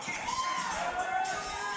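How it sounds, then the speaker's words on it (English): Crowd at a wrestling show cheering and shouting during a post-match celebration, a brief lively swell with voices mixed in. "The crowd getting into the post-match celebration on the part of Sugar Dunkerton"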